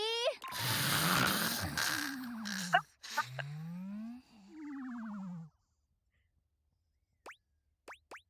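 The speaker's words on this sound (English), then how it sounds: "Betty is reclined on the bed, eyes shut tight and snoring comically." Exaggerated cartoon snoring from a reclining bed character in the video game Date Everything, with long wheezy breaths rising and falling in loud repeated cycles, then silence and a few short sharp blips at the end.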